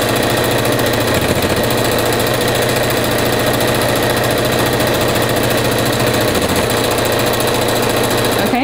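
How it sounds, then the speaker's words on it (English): A sewing machine stitching a rag quilt runs continuously with a loud, steady mechanical whir and rapid needle chatter, close up and uninterrupted. "listen to my sewing machine go brrr"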